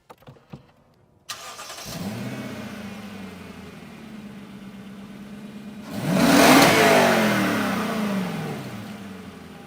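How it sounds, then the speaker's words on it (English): An older Lexus LS V8 starts after a few faint clicks, settles into a steady close idle, then revs sharply to a louder roar around the middle before easing back down. "That is a V8 for sure."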